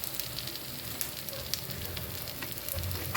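Appe batter frying in a covered appe pan, a steady close sizzle running throughout with light crackles and a few sharper pops near the end.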